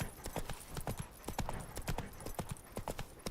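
Roach, Geralt's horse in The Witcher 3, gallops with a rapid, steady clip-clop of hooves, close and continuous throughout with no talk.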